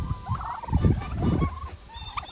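Several turkeys gobble in quick, rattling bursts close by, overlapping one another, with a faint high whine in the background.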